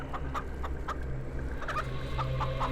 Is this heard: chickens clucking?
yes